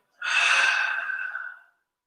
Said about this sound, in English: Inhale to lengthen for a halfway lift. Exhale to come down.